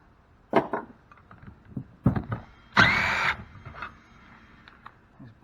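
Craftsman power tool removing bolts from a cast aluminium powder transfer pump, with short bursts of whirring and a louder sustained rattling run midway, close and without speech.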